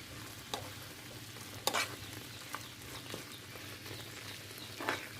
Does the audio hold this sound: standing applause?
no